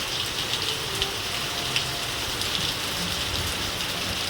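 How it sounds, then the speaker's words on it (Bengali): Heavy rain pours steadily, a dense hiss of drops pattering on surfaces without pause and no one speaking. "এবছর যা বৃষ্টি হলো অতিরিক্তই হলো"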